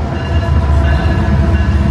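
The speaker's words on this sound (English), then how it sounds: "I wonder where are we that has a train?" Passing train close by, a loud, dense low rumble of wheels and cars with a steady metallic hum throughout.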